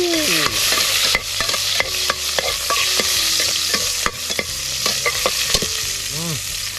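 Garlic sizzles steadily in hot oil in a pan while a utensil stirs it with repeated scrapes and clicks, loud and close, with no voices.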